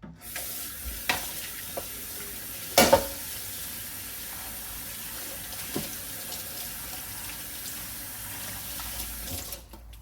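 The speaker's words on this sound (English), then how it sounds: "I'm going to go ahead and rinse some of these, and I'll put them on my drying rack here" Tap water runs steadily into a sink as washed dishes are rinsed, a soft continuous splash with a few clinks and knocks of dishware, fairly quiet and with no talking.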